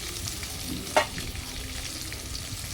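Dry sesame flour mixture frying in a pan gives a steady, soft hiss with one brief scrape or clatter near the start, and no voices.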